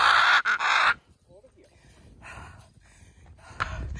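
Pet birds screaming in a forest during a bear encounter, loud harsh shrieks in the opening second, then quieter squawks and a rustling outdoor background with a few later calls.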